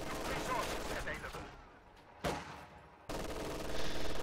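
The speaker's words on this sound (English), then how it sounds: "LMGs firing on those conscripts, and a T-70 is getting produced" Light machine guns rake conscript infantry in a strategy video game battle. The fire is dense and continuous, easing slightly in the middle before a sharp loud burst, then a heavy unbroken stream of shots to the end.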